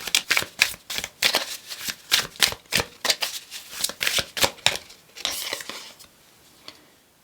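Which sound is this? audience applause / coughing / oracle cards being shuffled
oracle cards being shuffled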